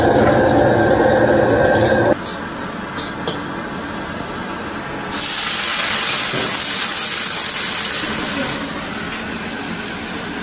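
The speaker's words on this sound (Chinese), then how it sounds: "炒那个荷兰豆它才香" Snow peas and Chinese cured meat stir-fried in a wok with ginger and garlic give a loud, steady sizzle and hiss that shifts in strength as the pan is worked.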